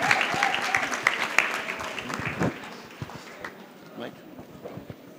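Church congregation claps during a worship service, a busy run of claps that fades toward a few scattered ones, with voices and talk underneath.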